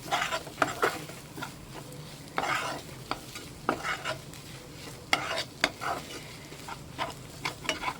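Grated coconut is stirred into a squid stir-fry in a pan, with a soft sizzle beneath repeated scraping and tapping strokes of the spoon at an irregular rhythm.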